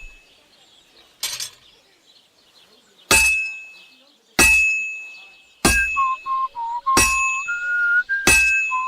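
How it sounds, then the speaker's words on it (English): Hammer blows on hot metal at a blacksmith's forge in Kingdom Come: Deliverance II, five sharp ringing clangs spaced about a second apart, with a steady tone and a rising whistle between the later strikes. "Do I keep hammering it until the sparks stop?"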